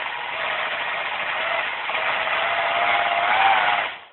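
A 350-watt permanent magnet alternator turns slowly, giving a steady whirring hum that swells slightly as it spins, then cuts off abruptly at the end.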